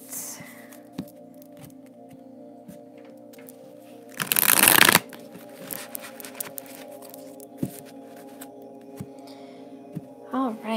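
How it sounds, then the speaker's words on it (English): Tarot cards are handled quietly with scattered light taps, then broken into a loud, close shuffle lasting about a second, followed by more soft card handling and a faint whisper-like voice. "Put your energy in here while I'm shuffling."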